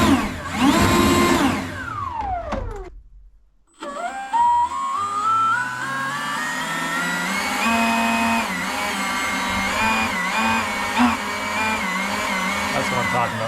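A Milwaukee M18 Fuel Gen 3 cordless leaf blower spins up after a short silence and holds a loud, steady whine with rising pitch as it reaches speed, the motor running continuously close to the microphone.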